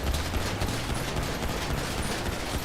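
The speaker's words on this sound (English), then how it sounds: "Shots fired! Shots fired! Shots fired!" Rapid, dense gunfire crackles in GTA 5, a loud, nonstop volley of overlapping shots with mechanical clatter, filling the whole moment without any speech.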